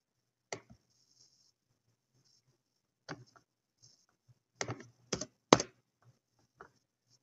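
Sparse keystrokes on a computer keyboard as place and date are typed, right-aligned like a personal letter: a few isolated clicks, then a short cluster of sharp taps, fairly close and quiet, with no talking.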